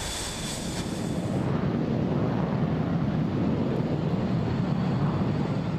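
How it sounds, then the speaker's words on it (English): Two F-18 jets at an air show demonstration supporting ground forces, heard as a loud, steady broadband roar that holds throughout, with strong low rumble and wind buffeting on the microphone. "Two F-18s that will be providing support for the ground forces during the demonstration."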